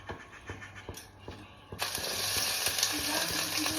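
Lote fish with pui leaves hitting hot oil in a pan, starting with scattered clicks and taps, then bursting into a loud, steady sizzle that continues to the end.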